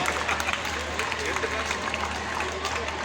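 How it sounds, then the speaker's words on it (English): Parents at a school student demonstration event clap in dense, sustained applause, a steady wash of hand claps with voices mixed in. "give your thundering clap and support them"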